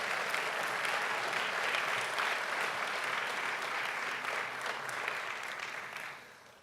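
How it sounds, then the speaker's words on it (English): Sustained audience applause fills a City Hall room in New York during an Albanian Independence Day anniversary celebration, a dense steady clapping that holds for several seconds and then tapers off at the end. "Can we give Miss New York a round of applause?"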